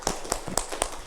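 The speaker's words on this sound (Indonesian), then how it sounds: "tepuk tangan untuk Alia" A few people clapping for a student in a math classroom, four or five distinct claps in a slow, sparse rhythm, close and fairly faint with no talking.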